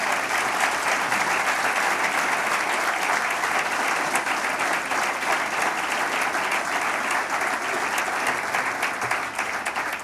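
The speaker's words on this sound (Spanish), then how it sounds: "pido para él una fuerte ovación por haber presentado el libro" A sustained ovation from an audience at a book presentation in Barcelona, thick, even clapping that holds at a constant level throughout.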